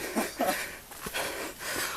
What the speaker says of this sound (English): YouTube gonna flag this for all my heavy breathing.